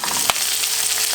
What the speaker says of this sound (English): add a handful of curry leaves and just quickly fry that off